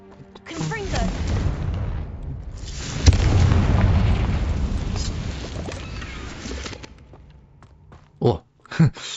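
A Confringo fire-spell blast goes off in Hogwarts Legacy, a booming burst that rolls on for several seconds, followed by a couple of sharp pops, with a voice talking partly over it.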